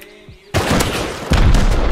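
Game gunfire from the survival game Rust: a sudden loud burst of shots around the midpoint, then a second heavier volley, dense and close with no clear gaps.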